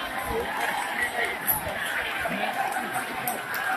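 A dense crowd of warkari pilgrims gathered for the palkhi procession of Sant Dnyaneshwar Maharaj departing for Pandharpur, with a steady murmur of many voices and chatter and a voice speaking over it nearby.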